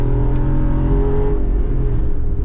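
A steady, loud engine drone with low rumble and road noise from a 2022 Jeep Wrangler Rubicon 392 cruising on a road, no voices present.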